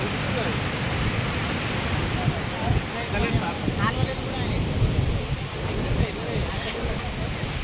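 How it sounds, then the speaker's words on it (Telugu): A loud, steady roar of rushing floodwater in Mittasadagodu village after heavy rain, broad and continuous like a strong torrent, with faint voices buried underneath. "భయంకరమైన వాటర్ పోతుంది"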